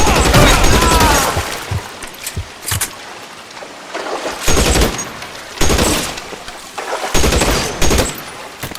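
Gunfire in L.A. Noire comes in several loud, sharp bursts and volleys spread across the stretch, separated by brief quieter gaps.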